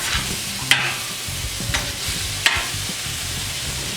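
Thin-sliced beef stir-frying on a 36-inch Blackstone griddle: a steady close sizzle with a few sharp spatula scrapes and clacks against the hot flat-top, no talking.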